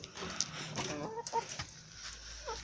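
Laying hens cluck softly nearby in short, scattered calls amid a light outdoor background hiss in a coop.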